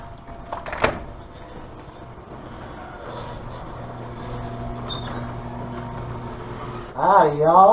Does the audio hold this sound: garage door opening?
yes